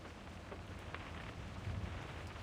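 Steady rain in the video game Reverse: 1999 falls over the scene of an explosion fire, a continuous soft hiss with faint low rumbling, even and quiet throughout with no voices.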